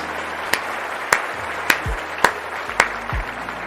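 Five sharp, evenly spaced claps ring out slowly one after another, with low thuds in between, like a lone person clapping deliberately.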